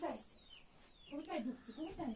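Chickens clucking close by, low throaty calls and murmurs repeating irregularly, with a faint voice mixed in.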